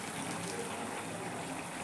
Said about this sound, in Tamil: கொஞ்சம் லைட்டாக புளி தண்ணி சேர்க்குறேன்.